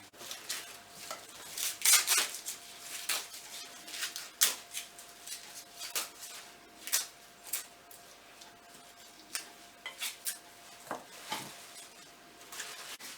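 Kale leaves stripped from their stalks by hand in a kitchen, giving a run of irregular snapping, rustling tears at close range alongside faint clinks of a pot.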